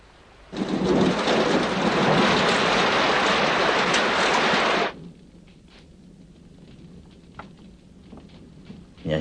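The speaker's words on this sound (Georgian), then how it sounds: "Sì, piove" Heavy rain pours down in a loud, steady hiss for about four seconds, then cuts off abruptly, leaving a quiet room with faint scattered noises.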